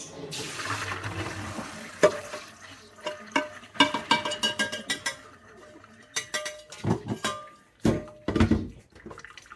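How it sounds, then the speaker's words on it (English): Water gushes and pours out as cooked beans are drained, then rattles and clanks of a metal pot and colander follow in uneven bursts, close by with no talk. "So we're just going to drain these."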